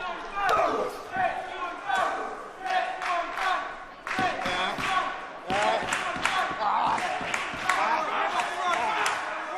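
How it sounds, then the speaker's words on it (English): A pro wrestling crowd shouts and chants for Warren Banks amid loud ring thuds and slams, bursts of voices and impacts coming in uneven waves inside a small venue. "Crowd coming alive for Warren Banks"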